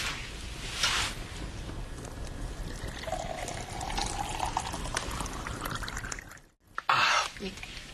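Water is poured into a glass in a domestic drama scene, a soft steady trickle running under light room noise, with a brief louder splash near the end.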